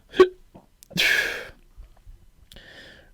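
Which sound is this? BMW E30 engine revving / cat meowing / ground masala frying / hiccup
hiccup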